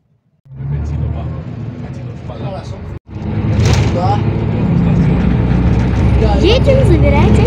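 A car drives along with a steady, close engine and road rumble that begins after a short silence, breaks off for an instant, then resumes louder, with a voice heard faintly within the noise.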